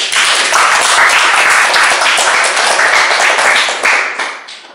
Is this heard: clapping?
yes